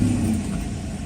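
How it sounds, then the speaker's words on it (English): Mercedes SL600 V12 idling roughly right after starting with no throttle bodies installed, a steady low rumble held at even loudness for the whole short stretch. "So I'll start the car without throttle bodies being installed"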